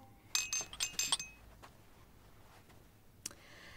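Glasses clink together in a toast, a quick cluster of four or five bright chimes followed by a single faint clink a couple of seconds later, quiet and with no voices.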